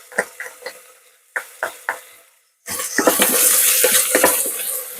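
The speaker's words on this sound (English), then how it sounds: "So now I am just going to add in that garlic." Garlic goes into softened onions in a pan: a few sharp clinks and scrapes, a brief pause, then a loud, close, steady sizzle of frying with occasional stirring knocks on top.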